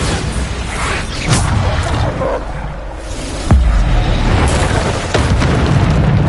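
Bombarda spell blasts in Hogwarts Legacy sound as loud booming explosions repeating every second or two over continuous game noise, with no one talking.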